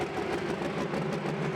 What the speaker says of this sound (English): Final tractor in this pull-off then, Simply Red, driven by John Eccles, the only